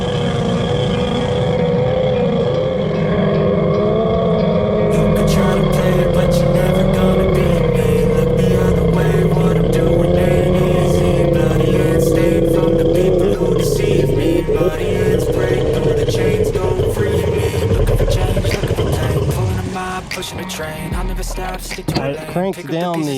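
A jet ski engine on the water, warmed up and brought onto the throttle, drones loud and steady with its pitch wavering up and down before cutting off near the end.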